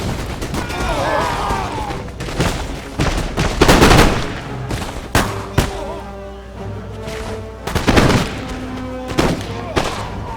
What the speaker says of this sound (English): Just watch one of my guys shoot here.